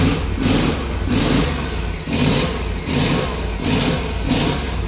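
A Caterpillar 336 excavator's diesel engine runs loud and close in a steady pulsing pattern of roughly one-second surges, as if revving repeatedly after starting.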